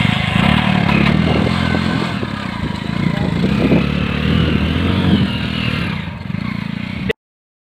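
A motor vehicle's engine runs loud and close, a steady rumble with clattering overtones that holds for about seven seconds as it pulls away, then cuts off abruptly.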